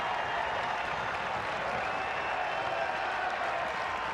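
A crowd at a college baseball game between Wake Forest and East Carolina cheers and applauds after a three-run home run, a dense, steady wall of clapping and crowd noise without commentary.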